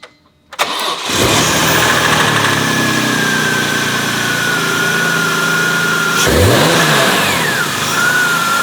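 A BMW E46 M3 engine cranks and fires up loudly, settles into a rumbling idle, then revs sharply once before easing back.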